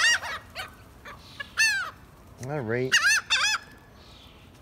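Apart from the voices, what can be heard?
birds squawking while being fed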